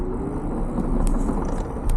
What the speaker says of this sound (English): I think I've blown a bearing or a planetary gear.